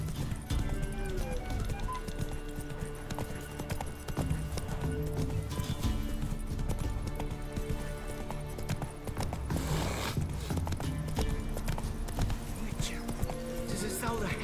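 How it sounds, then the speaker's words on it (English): A horse gallops continuously in The Witcher 3: Wild Hunt, with steady clip-clop hoofbeats and an occasional whinny under game dialogue and background noise. "Run, Roach."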